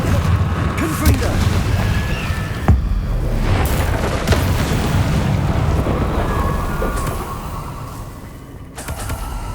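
Confringo blasting spell from Hogwarts Legacy erupts in a loud, sustained booming explosion, a dense rumbling roar that swells and crackles for several seconds with sharper blasts mixed in and brief pauses between bursts.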